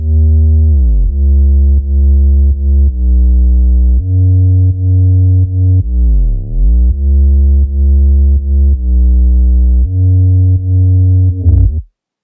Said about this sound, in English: the next thing I'm going to show you guys is my sub bass and soloed out